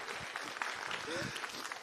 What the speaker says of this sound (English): Can we give that person a round of applause